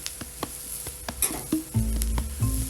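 Spicy Moroccan lamb burger patties frying on a hot plancha, a close crackling sizzle with scattered pops and sharp ticks, joined late by a few metallic spatula clanks.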